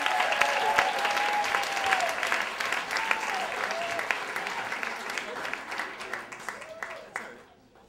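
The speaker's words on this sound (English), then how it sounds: "let's clap it up for Kevin" A live storytelling audience gives sustained, crowded applause and cheers as Kevin McAuliffe takes the stage, with voices calling out above the clapping before it fades away at the end.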